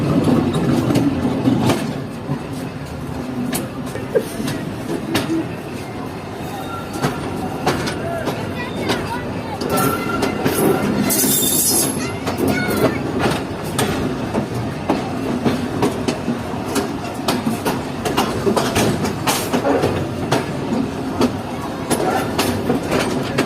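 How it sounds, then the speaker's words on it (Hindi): The Mohenjo Daro Express in rural Sindh leaving the platform line for the main line, a loud continuous rumble of rolling wagons with rhythmic clickety-clack over the rail joints and brief metallic squeals, with people talking over it. "प्लेटफॉर्म लाइन छोड़ दी है और अब ये मेन लाइन पर आ चुके हैं।"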